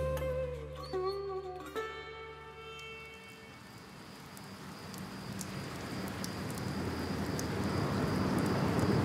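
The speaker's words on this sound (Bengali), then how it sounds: "মধ্য শীতের বৃষ্টি ভেজা রাত, ধোঁয়া ধোঁয়া বৃষ্টির মধ্যে" Rain effect in a Bengali radio drama: a steady hiss of falling rain swells gradually and becomes a broad, full wash, following a fading musical tone at the start, with no voices.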